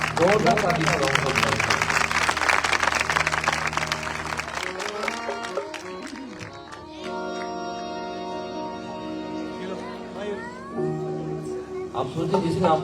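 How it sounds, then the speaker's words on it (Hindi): Audience at a live Praise and Worship gathering in Jacobabad, Sind, bursting into dense rapid clapping for several seconds, then fading as sustained tonal singing or music carries on alone. "जोरदार ताली बजाओ।"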